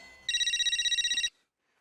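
A telephone rings in one short burst of rapid electronic trills, loud and close, then stops abruptly into near silence, with no one speaking.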